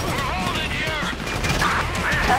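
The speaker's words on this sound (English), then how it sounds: "You hear that gunfire?" Bursts of gunfire from a shootout in Grand Theft Auto V, continuous and fairly loud over a short stretch, layered with game sound and voices talking.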